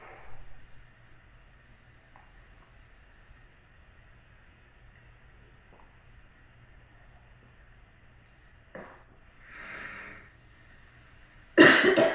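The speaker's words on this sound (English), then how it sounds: "It's okay to cough." A couple of faint, isolated coughs break a quiet, near-silent room, with a louder cough or throat sound at the very end.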